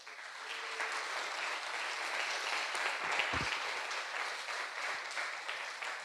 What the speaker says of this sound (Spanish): Dale un fuerte aplauso al Señor, hermano.